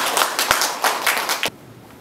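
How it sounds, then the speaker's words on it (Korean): At an academic conference, a small audience claps to welcome a speaker, a modest patter of individual claps for about a second and a half that stops abruptly into quiet room tone. "자, 뜨거운 박수로 맞이해주세요."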